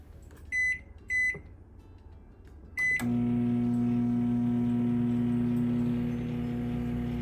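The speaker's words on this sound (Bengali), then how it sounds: "আমি এখন এই বাটিটিকে মাইক্রোওয়েভ ওভেনের মধ্যে দিয়ে দেবো" A microwave oven cooking a bowl of sweet Bengali pulao gives three short beeps as the 22-minute time is set, then a steady, even hum starts and runs on unbroken.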